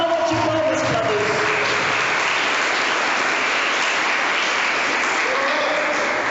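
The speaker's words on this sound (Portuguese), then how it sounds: "Aplauda o Senhor, dá uma salva de palmas para Deus." A Catholic congregation applauds at length during a sermon, a dense, steady wash of clapping hands filling the church without a break.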